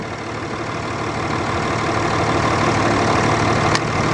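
A 2005 Dodge Ram 3500 Big Horn with a stock 5.9L Cummins diesel and 5,200 miles idles nearby with a loud, steady, low rumbling clatter that holds even throughout, with no talking.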